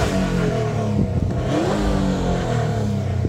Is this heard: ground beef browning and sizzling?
no